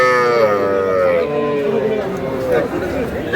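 Cattle at a calf market in Jamalpur, where small bulls and heifer calves are sold, giving a long, loud, drawn-out moo close by, with crowd chatter and talk underneath.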